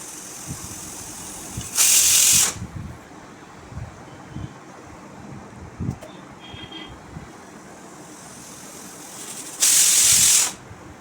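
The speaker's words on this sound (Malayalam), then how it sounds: "അത് നമുക്ക് കുക്കറിലേക്ക് ഇട്ട് രണ്ട് വിസിൽ ഒന്ന് വേവിച്ചെടുക്കാവേ" A pressure cooker holding mung beans for payasam vents steam twice, each a loud, steady hiss lasting about a second, with quieter kitchen rumbling and knocks in between.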